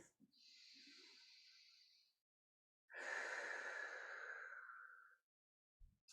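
Slow, deep breathing during a pelvic floor exercise: one long, airy inhale, a pause, then a stronger, longer exhale, close and soft in a quiet room.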